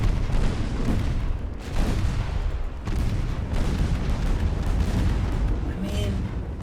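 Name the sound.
battleship main guns firing in Ultimate Admiral Dreadnoughts video game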